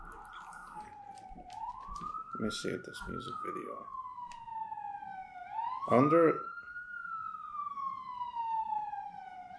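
A siren wails in long rising and falling sweeps throughout, fairly close, while people talk over it.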